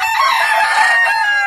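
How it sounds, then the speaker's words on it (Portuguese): A young rooster, son of an older bird and kept with ornamental fowl on a ranch, crows once, loud and close, in a drawn-out, strained call. "Ele é um galo, filho do bicho velho."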